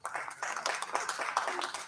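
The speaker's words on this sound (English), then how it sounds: "Big round of applause." An audience at a formal event claps for a keynote speaker: a short, steady round of applause from a moderate distance, with no speech over it.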